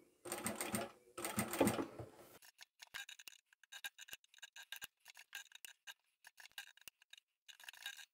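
A sewing machine stitching bias binding around a curve on a vintage 60's half apron, in two longer whirring runs followed by many short, quiet bursts of a few stitches at a time.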